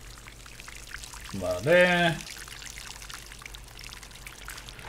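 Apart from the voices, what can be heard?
pouring water in Alchemy Garden video game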